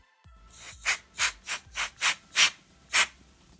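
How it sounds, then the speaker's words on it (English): Compressed air from a dust can blown in short bursts into a Dell Inspiron 5577 laptop to clear built-up dust, about eight close, hissy puffs in a fairly even rhythm with no talking. "Use this dust can to blow it."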